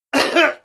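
A single loud, close cough from a man, a harsh burst lasting about half a second with the start of another cough right after, heard as an audiobook sound effect.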